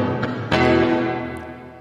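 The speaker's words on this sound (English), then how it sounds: "And now with the reverb applied." Sustained guitar chords ring out with a washy, echoing tail, a couple of plucked accents blooming into a spacious reverberant decay.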